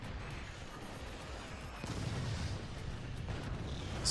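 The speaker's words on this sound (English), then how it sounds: "That howitzer." Howitzer artillery firing in the strategy game Forts, a muffled low boom rising midway and holding as a dull rumbling roll, fairly quiet in a busy game mix.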